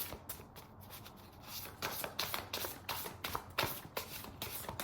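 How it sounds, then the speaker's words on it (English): Tarot cards being shuffled up close, a run of soft riffling and rubbing bursts that grow busier and louder toward the end, with no voices over them. "Oh, these cards are so hard to shuffle."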